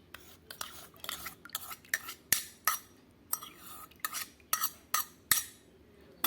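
Curd being stirred into milk in a metal vessel with a spoon, giving a run of sharp clinking strokes in a steady, unhurried rhythm, close and moderately loud with no voices.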